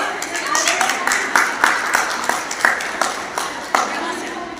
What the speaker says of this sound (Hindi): गर्ल्स तालियां बजाएं।